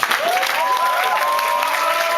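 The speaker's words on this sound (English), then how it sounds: "So give him a big applause." Audience applause at a Pecha Kucha presentation night in Amsterdam, a dense steady wash of clapping from a crowd that holds level for the whole stretch, with some tonal sounds running underneath.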